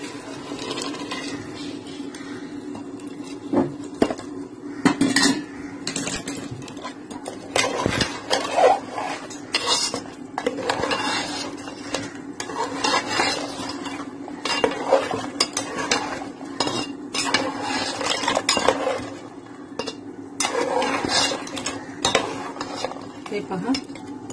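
A spoon stirs crab curry in a metal pot after hot water goes in, with repeated scraping and clinking strokes against the pot over a soft bubbling sizzle, and no talk.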